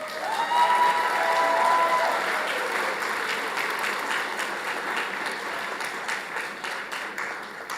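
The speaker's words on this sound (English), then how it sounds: "Clap for your parents." Audience at a college graduation ceremony breaks into sustained applause for the parents, a dense, loud clatter of many hands that slowly tapers, with faint voices mixed in.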